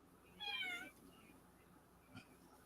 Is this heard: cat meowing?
yes